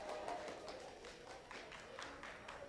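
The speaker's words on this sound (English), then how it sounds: "Hey, I should hear a better applause than that." Audience at a youth group gathering applauds, a faint, diffuse patter of many hands clapping with some crowd noise behind it.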